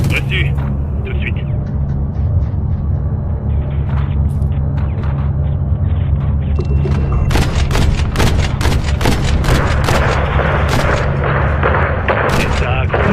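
Heavy gunfire in a French action film: a rapid run of sharp shots and loud blasts over a constant low engine rumble, the firing getting denser and louder in the second half, with radio-style voices talking.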